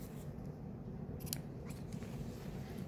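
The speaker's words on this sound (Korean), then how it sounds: "그래서 여기를 이 가위등 높이만큼 이렇게 잘라주셔요" Scissors snip through tailor's tack threads on skirt fabric, giving a few crisp, close cuts over low background hum with no talking.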